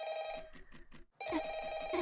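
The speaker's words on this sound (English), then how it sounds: "Is that my phone?" A telephone bell rings in the video game Frickbear's 3, a rapid electronic trill cut by a short pause before ringing again, loud and close with no voices over it.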